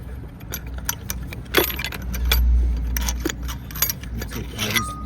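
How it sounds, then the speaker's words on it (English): Metal washers from a Honda Integra engine mount being handled and sorted, bright jangling clinks and small scrapes in scattered clusters, close up over a low rumble in a garage. "Take all these washers off."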